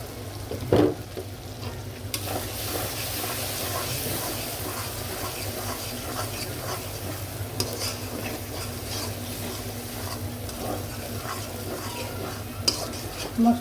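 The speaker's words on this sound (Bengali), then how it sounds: "মশলাটা আমি ভালো করে কষিয়ে নিই।" Spice paste of turmeric and chili stir-fried in a pan for beef tripe bhuna: a steady close sizzle under continuous scraping and stirring, with occasional utensil knocks against the pan.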